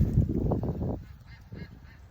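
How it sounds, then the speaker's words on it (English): Large young male farm ducks let out a few close, honking quacks in a quick cluster, followed by softer scattered calls. "We picked up 7 large male ducks that are about 3 weeks away from"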